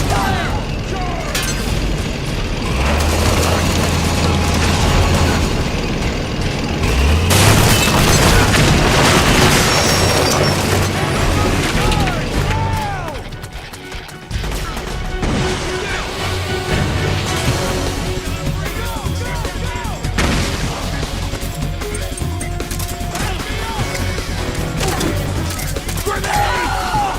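Gunfire and explosions in the Metal Gear Solid 4 video game during a charge on a mansion compound, dense continuous booms, rattling shots and mechanical clatter, loud throughout with voices shouting over the battle.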